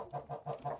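Chickens bought from a hatchery cluck softly in four quick, faint bursts at close range, with no talk over them.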